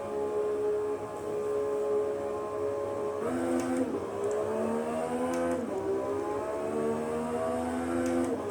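A Porsche 991 GT3 race car laps the VIR track. A steady engine tone rises and falls through gear changes and lifts in pitch as it accelerates, heard from inside the car.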